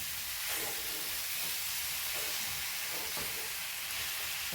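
Continuous hissing sizzle from a hot pan of date and lemon pickle, with faint scraping taps of stirring now and then, no talking.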